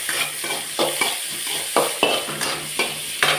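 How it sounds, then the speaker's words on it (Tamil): Cut onions sautéing with fennel seeds in a pan for a home lunch, a loud close sizzle broken by regular scraping strokes of a spoon stirring roughly every half second, with no talk. "கட் பண்ண வெங்காயம் போட்டுக்கிடுறேன், வதக்கிக்கிடுறேன்"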